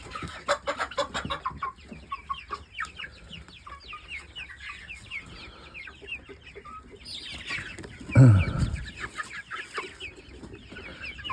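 Chickens cluck and murmur close by around a drinker of water medicated with pyrantel, with soft scattered calls throughout and one louder burst of flapping or clatter partway through.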